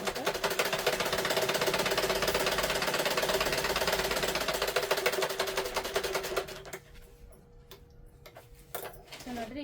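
A sewing machine stitches a children's umbrella frock in a rapid, even run of ticking stitches for about six seconds, then stops, leaving only a few faint clicks; the machine sounds close and there is no talk.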